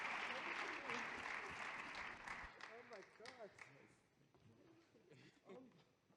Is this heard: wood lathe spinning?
no